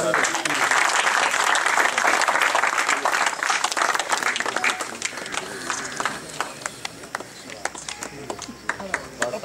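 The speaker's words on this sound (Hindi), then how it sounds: "तालियां बजाओ जी।" Audience breaking into loud, dense applause that swells at first and then thins into scattered claps, with voices talking over it.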